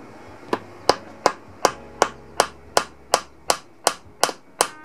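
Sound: hammering nails to fix a sharpening stone

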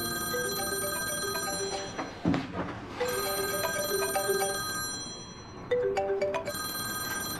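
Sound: telephone ringing

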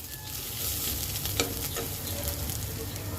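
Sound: goat liver frying with ginger garlic, being stirred

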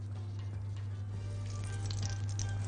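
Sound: ghee sizzling in a hot wok

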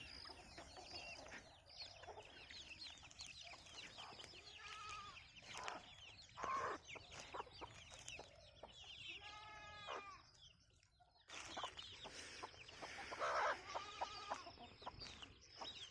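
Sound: Australorp rooster and chickens clucking

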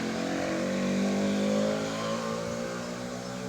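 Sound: car driving past loudly

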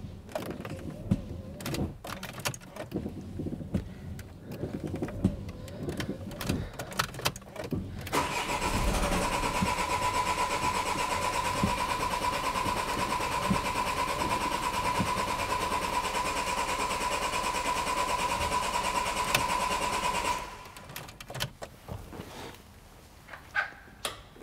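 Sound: car engine cranking during PicoScope cranking current test

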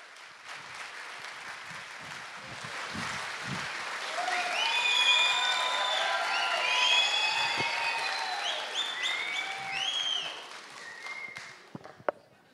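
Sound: applause and cheering from the audience at a hypnosis show

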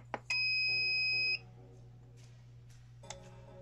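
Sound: Willhi temperature controller beeping loudly when pressing power

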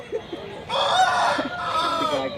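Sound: rooster crowing

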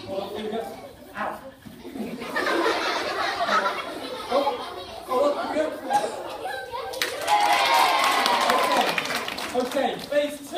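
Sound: audience cheering at an escapology show

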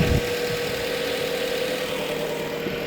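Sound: car engine idling

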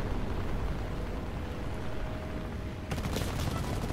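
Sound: aircraft gunfire in War Thunder video game

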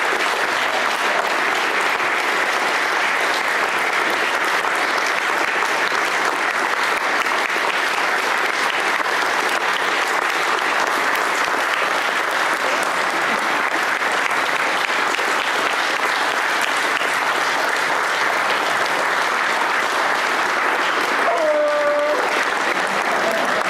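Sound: conference audience applause

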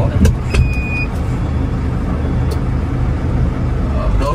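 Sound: JAC N900s 9.4-ton flatbed truck driving

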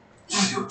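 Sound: sneeze

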